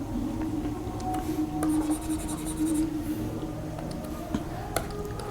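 Chalk or marker scratching across a board as digital electronics equations are written, a continuous close rubbing scrawl with a few taps, no speech heard.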